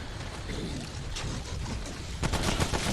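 Heavy, dense gunfire from a boss weapon in the video game Remnant: From the Ashes, a sustained roar of rapid shots that swells louder near the end.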